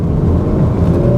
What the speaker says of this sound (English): Revs have jumped right up just by switching.